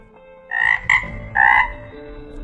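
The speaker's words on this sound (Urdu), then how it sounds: "یہ آواز ہوتی ہے مینڈک کی، لیکن اصل میں یہ آواز صرف ایک مینڈک کی نہیں بلکہ ہزاروں مینڈکوں کی ایک ہی آواز ہے۔" A dense chorus of thousands of frogs croaking together, heard as several loud, bright croaking bursts in quick succession over a low background murmur.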